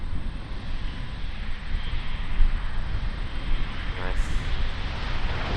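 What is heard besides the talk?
Jetstar Airbus A320 arriving from Christchurch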